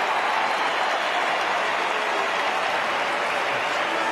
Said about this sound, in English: You'll hear the crowd go up.